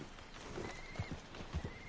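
Horse hooves thud under a rider in Red Dead Redemption 2, landing as two quick pairs of soft low clip-clops over faint in-game ambience, with no talking.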